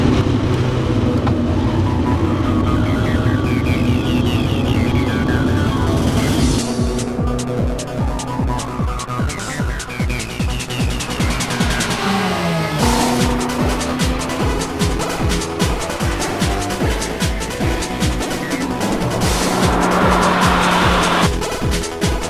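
A 1995 Acura Integra GS-R, a front-wheel-drive car on summer tires, is driven hard, its engine rising and falling through gears while tires squeal repeatedly in long close skids, loud and continuous with no talking.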